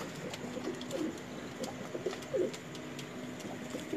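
Pigeons in a Lahore loft give soft, repeated throaty coos at a moderate distance, several calls spread over a few seconds above a quiet background.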